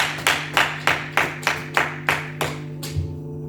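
A church congregation claps in rhythm during a family worship service, about ten sharp, evenly spaced claps over a sustained organ or keyboard tone, the clapping stopping near the end.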